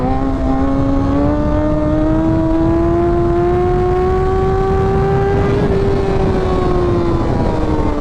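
A 600cc sportbike engine revs hard during a wheelie, its pitch climbing steadily, then dipping briefly as the throttle eases and picking up again, loud and close over wind noise, with no talk.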